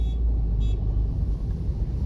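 Inside a moving 2017 Maruti Suzuki Ignis Zeta automatic petrol car, a low, steady engine and road rumble drones continuously and close, with no talking.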